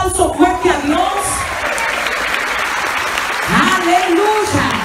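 A church congregation breaks into loud, dense applause during a sermon, a sustained wash of clapping, with a preacher's voice speaking at the start and again at the end.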